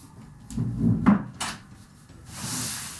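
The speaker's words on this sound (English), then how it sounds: "I'm going to close the door" An indoor door swung shut in a 25th-floor apartment, with a rubbing creak and a couple of solid wooden thuds, then a hiss of loud distant city noise.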